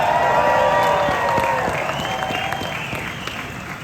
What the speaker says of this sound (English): Let's give that young lady another round of applause.